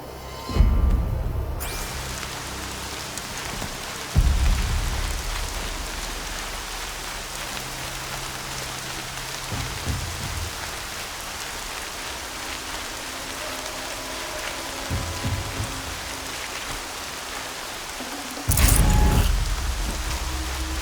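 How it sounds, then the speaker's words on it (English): Steady rain hisses down in the game Horizon Zero Dawn, a dense even patter that fills the scene, broken by a few low thumps along the way. "More rain. My boots will get damp."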